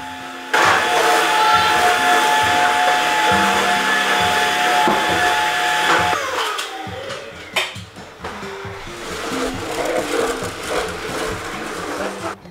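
A vacuum cleaner whines loudly for about six seconds, then shuts off, leaving scattered knocks and clatter.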